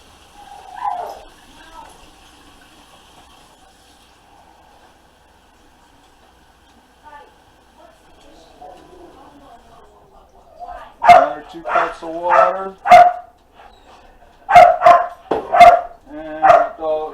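Dogs, one named Tyson, bark excitedly in the background of a home kitchen, in short bursts mixed in with a person talking nearby.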